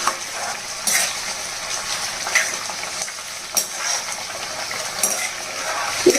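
About 50 grams of torn dried red chillies frying in hot oil with garlic for a tamarind chilli pickle, a constant crackling sizzle broken by a few bright stirring clinks and scrapes.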